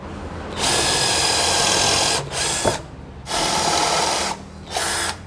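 An 18-volt cordless drill with a 4Ah battery whirs loudly in three bursts, the first long, then two shorter runs with brief pauses between, close up and alone.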